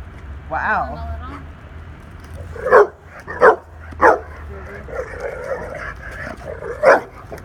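A dog barks in several sharp, loud, close barks spaced about a second apart, mixed with whimpers and yips, while a person talks in between.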